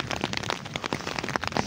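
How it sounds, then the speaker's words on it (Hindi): Heavy rain and hail in Kashmir, a dense steady patter of drops and hailstones striking surfaces, with sharp irregular cracks scattered throughout. "तेज़ यालाबारी और उसके साथ बारिश शदीद"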